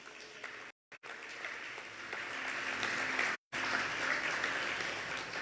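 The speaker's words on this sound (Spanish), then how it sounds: "Dele palmas al Señor." A church congregation claps together in sustained, dense applause during a Spanish-language worship service, filling the room evenly and loudly, with two brief cuts to silence.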